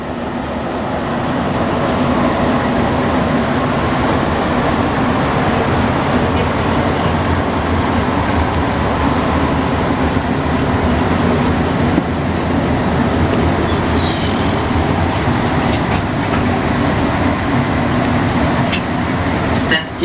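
A Montreal STM metro train rumbles steadily from inside the car, a loud, continuous roar of wheels and motors with occasional squeals and clanks, while someone talks over it.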